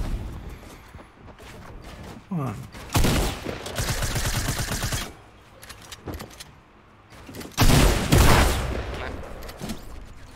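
Fortnite gunfire at a World Cup match comes in two loud bursts of rapid automatic shots, with quieter game sounds between them.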